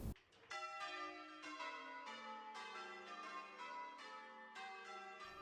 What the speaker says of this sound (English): The 5-minute bell is the last before worship. It rings out through the village with bold sound